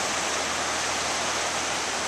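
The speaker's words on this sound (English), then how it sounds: "Turn around and catch the water coming down that mountain." Water cascading down a mountain cliff beside the river in Zion National Park, a loud steady rushing roar with no break.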